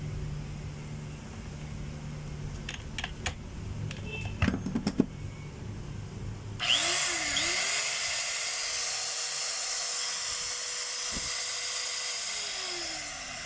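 A DeWalt DW810 4-inch angle grinder is switched on after several seconds of faint handling clicks and taps, then whines steadily and loudly at high speed, its pitch holding level before beginning to wind down near the end.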